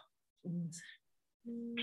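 A mobile phone rings during an indoor talk session, giving a short, steady electronic tone that starts abruptly and holds at moderate loudness after an earlier burst of sound.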